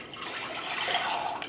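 Four cups of broth poured steadily into a cooking pot, a continuous close splashing stream for a moment with no talking.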